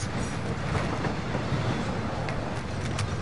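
A train rolls along in a PS4 video game, a steady rumbling rail drone with faint clattering, heard alone without voices.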